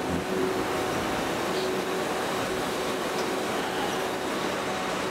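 An M&R Polaris screen printing machine runs a test print, producing a steady, dense mechanical whir and rumble that holds at an even level throughout, with no talking.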